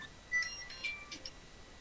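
A mobile phone plays a melodic ringtone, a short run of faint, bright electronic notes over a quiet room.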